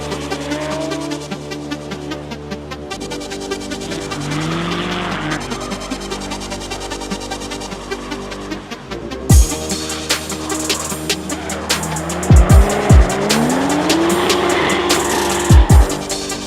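A drift car on an Australian race track revs hard and throws its tires into several sharp, loud squeals as it slides through a tight corner, engine droning throughout.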